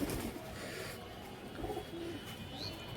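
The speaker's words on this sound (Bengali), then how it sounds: "অনেক সুন্দর কবুতর" Soft pigeon cooing at a moderate distance on a rooftop, a few low murmuring calls over faint ambient noise, with no one speaking.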